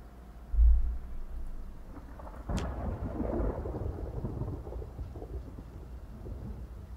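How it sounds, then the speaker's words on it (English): Heavy rain pours steadily in the video game Project Zomboid while a sharp thunderclap cracks and rolls into a long rumble, with a dull low thud just before it. "Still pouring rain out."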